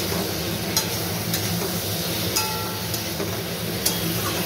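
Spice paste of cumin, coriander and mustard with green chili sizzles steadily in a pan, a continuous close hiss broken by a few faint clicks of stirring.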